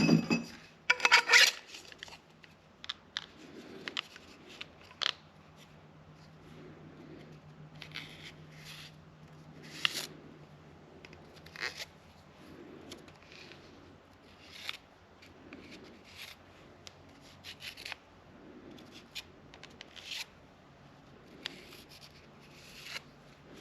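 A Sharpie marker traces a line around an aluminum pipe for a custom Triumph Spitfire fuel tank, giving faint, scattered scratchy squeaks and small knocks over a quiet workshop hum.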